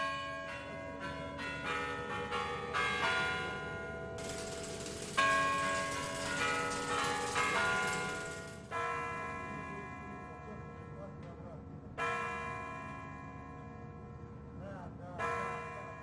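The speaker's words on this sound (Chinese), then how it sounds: "当克里姆林宫救世主钟楼的钟声敲响后" Kremlin Spasskaya Tower bells ring out over Red Square at the opening of the Moscow Victory Day parade, a dense, layered peal of overlapping strikes with fresh clangs at intervals and long ringing decay, loud and sustained.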